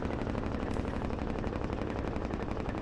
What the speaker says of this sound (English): I just love the sound of that Jake brake.